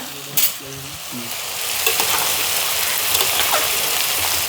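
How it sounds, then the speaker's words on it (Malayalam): Shallots sautéing in a pan for a liver roast give a steady, close sizzle that builds after a brief clatter of stirring at the start. "ചെറിയുള്ളിയൊക്കെ ഇവിടെ ഇരുന്നൊന്ന് വഴന്നോട്ടെ."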